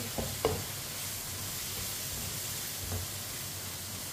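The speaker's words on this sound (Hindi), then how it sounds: "लाल मसूर की दाल डाल लेंगे। मिक्स कर लेंगे।" Soaked red lentils stirred into spinach masala frying in a pan, giving a steady low sizzle with a couple of brief scraping stirs near the start and one later, close by and fairly quiet.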